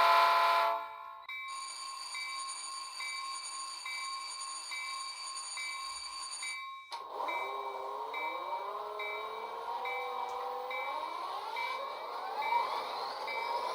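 A model locomotive's sound-equipped horn is triggered from a DCC-EX throttle, producing a long steady multi-tone honk that cuts off, followed by a rising, shifting synthesized tone, all fairly quiet with no talk.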